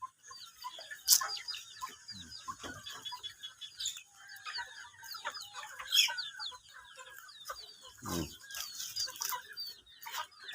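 Chickens cluck and chatter in an evening outdoor setting while being fed, with many soft, overlapping clucks, occasional sharper calls and a few bumps, moderately close and fairly quiet.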